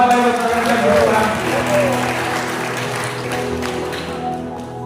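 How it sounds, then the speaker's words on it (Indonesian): Applause from wedding guests in a church, steady clapping beneath music and voices that ring out over it, fading slightly toward the end. "Tepuk tangan Bapak Ibu sekalian"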